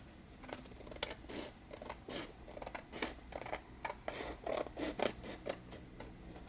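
Scissors snip through paper trimmed for a junk journal folio insert, a quick run of separate crisp cuts in an irregular rhythm, close and fairly quiet with no talk.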